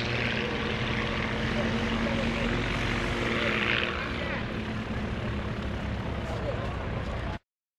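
A Beechcraft T-34 Mentor propeller trainer at the 2017 Greenwood Lake airshow gives off a loud, steady engine drone with broadband rush that holds throughout, and a voice speaks over it.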